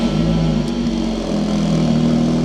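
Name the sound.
Scirocco R custom exhaust engine cold start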